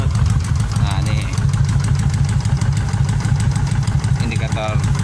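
A Kawasaki Vulcan 1500 motorcycle engine rumbles loud and close in a steady, throbbing low pulse, with someone talking over it.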